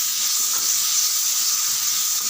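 Garlic, chilli and other coarsely ground ingredients sautéing in a pan for vazhakkai varuval give off a loud, continuous, close hissing sizzle, with no talk.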